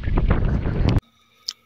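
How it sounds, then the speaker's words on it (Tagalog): Strong wind gusts across an islet campsite on a lake in Lumot, Cavinti, Laguna, a loud, close roar buffeting the microphone for about a second before cutting to near silence with a faint later rustle. "Dahil mahangin nga ngayon."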